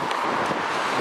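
Wind gusting outdoors under a grey sky just before rain, a continuous rushing buffet on a muffled microphone, loud and close with no other sounds.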